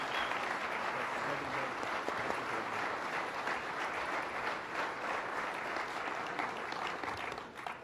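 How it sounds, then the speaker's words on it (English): Sustained crowd applause greets the mayor of Buffalo at a government check presentation, many hands clapping densely and evenly for nearly eight seconds before tapering off. "Let's have a big round of applause for a great mayor"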